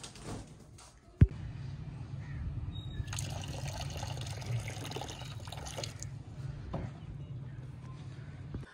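Water poured out for birds on a rooftop, a soft steady trickle and splash under a low hum, with a sharp knock near the start and faint speech.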